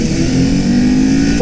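A 2018 Kawasaki Ninja 400 motorcycle at full throttle, its engine holding a loud, steady high-rev drone up close, buzzing without a break.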